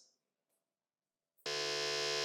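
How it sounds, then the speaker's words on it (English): A quiz show buzzer pressed by a team sounds abruptly after a near-silent pause, a loud, harsh sustained electronic buzz that continues to the end. "we've got 1 team going on the buzzer"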